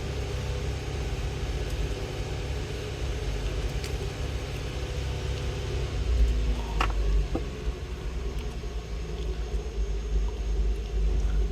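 A car engine idles steadily at low speed during a MAF and MAP sensor test, a continuous low rumble close by that settles slightly lower partway through, with a few faint clicks and no talking.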